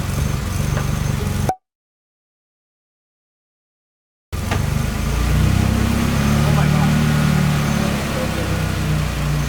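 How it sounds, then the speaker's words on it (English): A car engine idles with a steady low hum while excited voices talk loudly over it; the sound cuts out briefly to silence, then the idle returns. "It's idling perfectly!"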